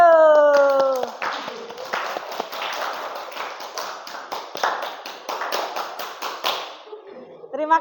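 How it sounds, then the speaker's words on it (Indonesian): Classroom applause for a student group during a teacher-training session: a burst of many hands clapping, steady and fairly close, lasting several seconds after a brief spoken voice at the start, then tapering off. "Tepuk tangan untuk kelompoknya Dogado"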